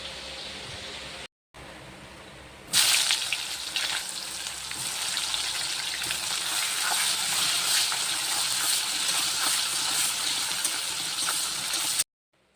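Whole garam masala, bay leaf and cumin seeds fry in hot oil for a meat curry, a loud steady sizzle that starts abruptly and holds through to the end, with no talking.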